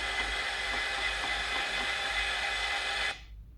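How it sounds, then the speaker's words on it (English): A diffusion pump pulling a vacuum on a roughed-out vacuum system, a steady broad mechanical hiss and hum running continuously and fairly loud before cutting off abruptly near the end, with no talking. "we are currently pulling a vacuum using the diffusion pump"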